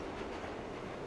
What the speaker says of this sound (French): J'entends le métro.